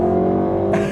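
A pre-OPF Volkswagen Golf R Mk7 engine revs up close, a loud sustained harmonic drone that climbs sharply near the end.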